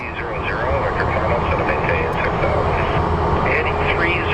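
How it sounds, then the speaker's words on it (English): A steady, loud jet roar from a WestJet Boeing 737 Max airliner in Spirit of Canada livery at Phoenix Sky Harbor airport, heard continuously beneath a commentator's voice. "it looks like we do have a WestJet 737, I think Max"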